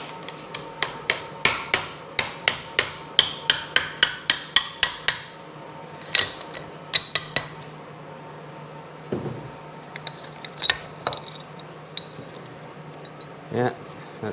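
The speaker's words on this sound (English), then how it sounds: "I got my special socket extension that I use to beat them out." Hammer blows on a socket extension driving original needle bearings out of a Sea-Doo 951 engine, a fast run of sharp metallic strikes followed by scattered, slower taps and clinks, close and loud.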